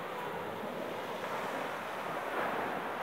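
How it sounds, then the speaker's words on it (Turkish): The sea at Çınarcık washes in a soft, continuous surf wash mixed with wind buffeting the microphone, fairly faint and steady with a slight swell toward the end. "Deniz çok güzel Çınarcık'ta bu arada"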